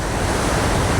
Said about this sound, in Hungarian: A közel 1 kilométer széles vízfüggöny hatalmas erővel zúdul alá az amazóniai őserdő